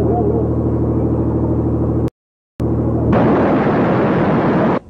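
An Iranian missile launch: a deep rumbling roar cuts off into brief silence, then resumes and swells into a loud, broad rushing blast, ending abruptly.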